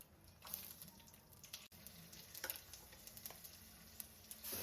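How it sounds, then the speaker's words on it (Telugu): Mustard seeds, cumin, curry leaves and green chillies frying in hot oil in a pan give a steady, soft sizzle with scattered crackles and pops, close by, no voices. "ఆయిల్ వేడెక్కిన తర్వాత ఆవాలు జీలకర్ర కరివేపాకు ఒక నాలుగు పచ్చిమిర్చి వేయించుకుందాం"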